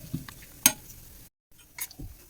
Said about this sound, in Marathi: खोबरं हे लालसर असं आपण भाजून घेऊ